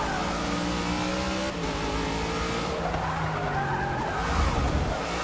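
A race car in the Forza Motorsport 6 video game gets clipped and skids, tires squealing over a steady loud engine drone as other cars roar close by through the whole stretch.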